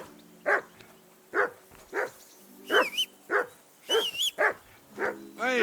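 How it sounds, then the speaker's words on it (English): A dog in Kingdom Come: Deliverance II barks repeatedly and loudly in short, evenly spaced bursts, with a few higher yips and whines mixed in, close up and alone. "Hey, call off that dog and then we can talk."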